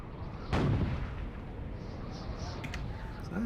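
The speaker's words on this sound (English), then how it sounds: "You can shoot cannons" A cannon in the video game EGRESS fires once with a sharp, heavy boom, followed by a low rumbling decay over a quiet background.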